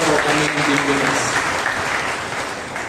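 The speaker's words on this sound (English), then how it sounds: "Can we welcome Father Sumit with a clap?" A retreat audience breaks into loud, dense applause to welcome a priest, many hands clapping steadily close by and fading slightly toward the end, with voices talking underneath.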